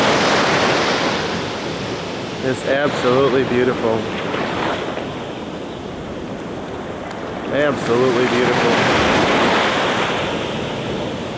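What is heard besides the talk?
ocean waves breaking on a beach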